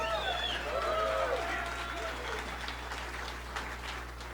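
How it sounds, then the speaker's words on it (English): Applause from a crowd at a talk by a speaker at CU Boulder, heard at moderate distance beneath a voice speaking over it, with a low steady hum underneath. "clap it up for him"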